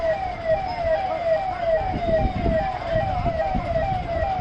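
Fire engine sirens wail continuously as firefighters rush to a garbage dump fire at Pallavaram Cantonment in Chennai, the repeating rising and falling tone loud over traffic rumble.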